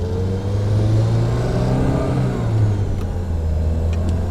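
A 1974 BMW 2002tii with a 5-speed gearbox, stall header and aftermarket muffler being driven, its engine a steady low droning hum that rises slightly in pitch, heard from inside the car with no talk.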